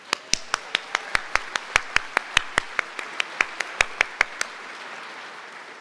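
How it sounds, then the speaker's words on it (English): A small audience claps at a dentistry commencement ceremony in the Herbst Theatre, about twenty sharp, evenly spaced claps over four seconds that stop abruptly, leaving quiet room tone. "Please give everybody a warm round of applause"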